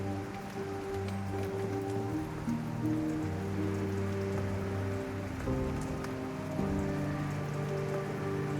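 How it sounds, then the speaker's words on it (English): Steady rain pours down over a quiet outdoor scene in Skyrim, a constant wash of drops on surfaces that runs the full length under low droning background music, with no voices. "The rain continued."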